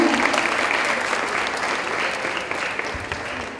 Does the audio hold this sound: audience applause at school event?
yes